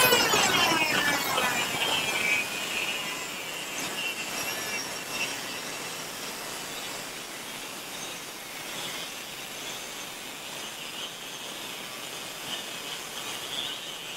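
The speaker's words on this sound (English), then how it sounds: "We're going to use the Dremel tool with a cutoff wheel" A Dremel rotary tool fitted with a cutoff wheel cuts through aluminum, a continuous high-pitched grinding whine with a screechy onset that settles into a steady, fairly close drone with no talking.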